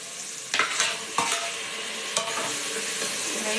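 Tomatoes and onions sizzle in a pan as they are stirred, with a few sharp scraping clatters of the spoon cutting through the steady close frying hiss.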